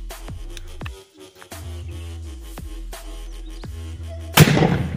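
A granite firecracker goes off inside a hole in the ground at Diwali, one sudden loud blast near the end after several seconds of sharp rhythmic beats and low hum.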